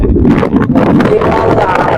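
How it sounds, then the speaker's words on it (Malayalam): Strong gusts near coastal salt pans buffet the microphone in a loud, continuous low rumble that fills the whole stretch without any clear pause. "നല്ല കാറ്റാണ് നല്ല കാറ്റ് പെരും കാറ്റാണ്"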